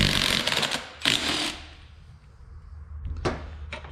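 A pulley is pried off an old alternator in a few scraping, clanking bursts of metal, each lasting under a second, with quieter mechanical rattles between them and no talk.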